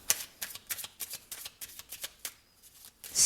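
Tarot cards being shuffled by hand, a rapid series of crisp papery riffles and flicks in quick rhythm, close and clear with no talk.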